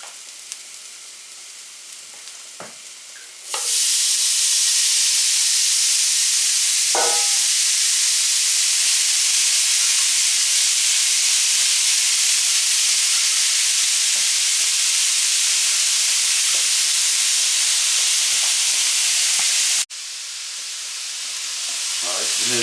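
Minced beef for spaghetti bolognese sizzles in a hot frying pan, a loud, steady hiss that starts abruptly after a quieter stretch and runs almost unbroken until it briefly drops and resumes.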